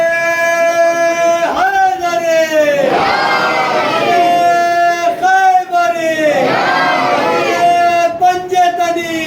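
A large mosque congregation at a Muharram majlis roars a loud, sustained collective slogan response in repeated waves, voices swelling and overlapping in a big indoor space.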